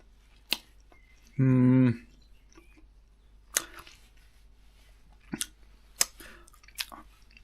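Someone eating a sausage muffin with cheese and tomato ketchup outdoors at a campsite: one loud, close bite or crunch, then scattered soft chewing clicks and smacks over a quiet background.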